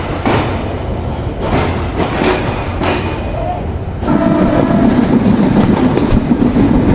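Train at Akkelpur railway station at night, a loud, continuous rumble of rolling wagons with rhythmic clacking wheels that grows heavier and denser partway through.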